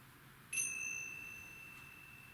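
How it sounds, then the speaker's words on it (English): A single meditation bell is struck gently at the close of a breathing meditation, giving a clear bright tone that rings on and slowly fades in a quiet room. "Gently ring the bell"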